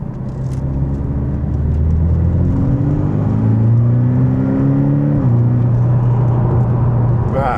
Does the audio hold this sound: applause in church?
no